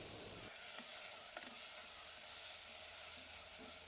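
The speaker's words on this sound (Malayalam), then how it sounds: "നമ്മൾ തക്കാളിയും പച്ചമുളകും ചേർത്ത് നല്ലപോലെ ഒന്ന് വഴറ്റി കൊടുക്കണം" Tomatoes and green chillies sauté in coconut oil for kadala curry, giving a soft, steady sizzle throughout with a couple of faint stirring taps.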